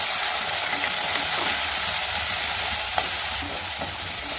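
Tomatoes sauté in a pan for thoothuvalai kuzhambu, making a steady close hiss of frying with a few faint scrapes of stirring. No voices are heard.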